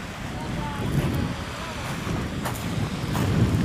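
Wind blowing at a beach in Spain, a steady loud rushing roar buffeting the microphone with surf-like noise throughout, and a voice talking faintly within it.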